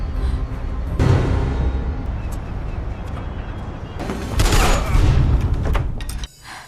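Gunfire in a Taken 2 film scene, a dense, loud burst of shots and booms over a heavy rumbling background, swelling again near the end before cutting off abruptly.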